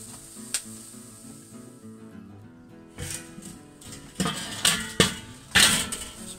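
Venison steak sizzling over direct heat on a grill, flipped after two minutes: crackling spits and sharp sizzle bursts flare repeatedly, close and fairly loud, over a steady background of soft music.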